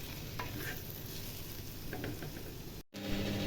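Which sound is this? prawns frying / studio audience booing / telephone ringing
prawns frying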